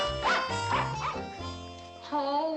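Several dogs yap and bark in short, high yelping bursts indoors in a 1960s sitcom scene, loud and close with brief pauses between calls.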